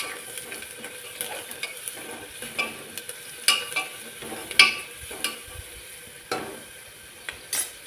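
Spices and turmeric stirred and fried in a pan for a mutton curry: repeated scraping and tapping of a spoon over a soft, continuous sizzle, with irregular louder knocks.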